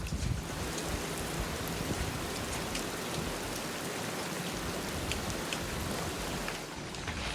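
Monsoon rain falls steadily in a Maharashtra village near Pune, a loud, even, close wash of drops and patter that continues unbroken with no speech.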